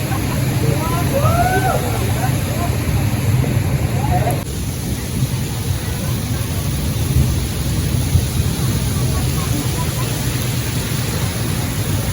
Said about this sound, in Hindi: बारिश फिर शुरू हो गई है।